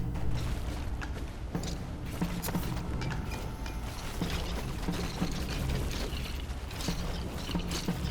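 Flamethrower weapon firing continuously in the game Halls of Torment, a dense mechanical rattling and clicking roar that goes on without a break, with game effects layered over it.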